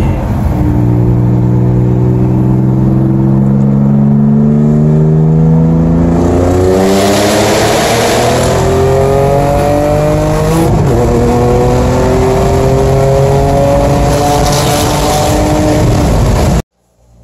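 Audi B6 with a K04 turbo pulls hard through the gears, the engine climbing in pitch with each rising sweep and dropping at shifts, loud and close throughout before cutting off abruptly at the end.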